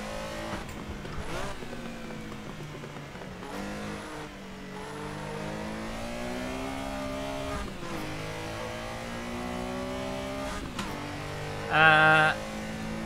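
A car engine in the Assetto Corsa racing game revs and accelerates steadily through gears, with a strong rising and falling engine tone, brief shift dips, and a louder burst near the end.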